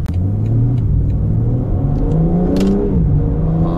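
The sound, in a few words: BMW M4 Convertible accelerating hard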